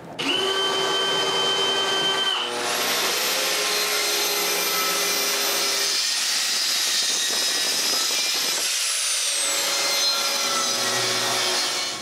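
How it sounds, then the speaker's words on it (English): A drill bores shelf-pin holes in a melamine bookcase panel in a woodworking shop, a loud, continuous whine that shifts pitch as the bit cuts, with short changes in load and no talking. "Then it's possible to drill the holes for the bottom shelves."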